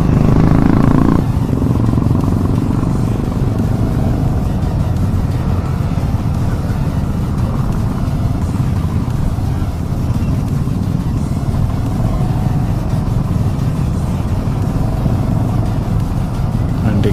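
A large group of motorcycles on the Distinguished Gentleman's Ride in Hyderabad rumbles on as a continuous, loud, close engine drone without a break, with a burst of wind noise at the start.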